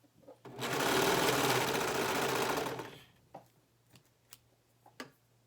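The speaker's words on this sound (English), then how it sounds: "we're going to sew this neckband, the ends together, so we have a circle" A home sewing machine stitching the two ends of a knit neckband together runs in one loud, steady burst of about two and a half seconds, followed by a few soft clicks and taps of handling fabric.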